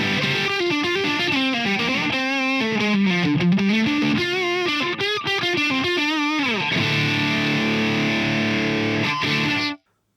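Electric guitar played through a Boss DS-1W distortion pedal in standard mode with all knobs at noon, crunchy distorted notes and bends, then a sustained chord ringing out before stopping abruptly.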